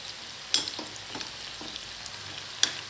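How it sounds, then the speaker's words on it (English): Soft Indian gooseberry pieces cooking in hot oil for pickle, a low steady sizzle with a few sharp metallic spoon clinks against the pan as the pieces are cut. "Now I will be able to cut through the pieces with the spoon because it has become very soft."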